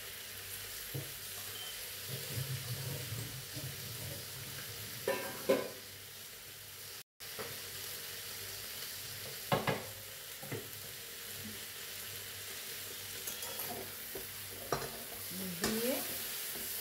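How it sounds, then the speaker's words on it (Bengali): Dried kachki fish frying in a pan with coriander leaves, a soft continuous sizzle under intermittent scraping and stirring strokes, faint and close, with brief clatters of the spoon against the pan and no talk. "একটু নেড়ে চেড়ে নামিয়ে দেবো।"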